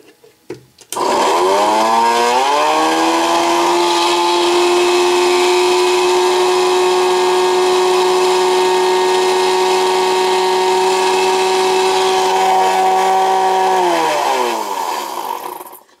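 A speedometer is spun at high speed by a power tool, giving a loud, steady whine that ramps up quickly, holds unbroken for about thirteen seconds, then winds down and stops.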